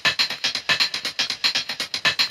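Drum pattern processed through an experimental convolution reverb preset in Max for Live, a fast, steady run of dense, smeared hits with a washy, resonant tail, loud and continuous with no voices.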